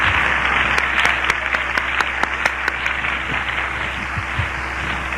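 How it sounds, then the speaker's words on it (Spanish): A church congregation applauds during a sermon, sustained crowd clapping with sharp individual claps standing out, a steady hum underneath, gradually thinning toward the end. "Un aplauso a Cristo por hacer médicos poderosos en la ciencia,"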